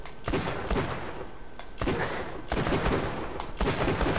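Revolver gunfire in Borderlands 2, fired at Skags: several sharp, loud shots spaced irregularly over steady game background noise, with no talking.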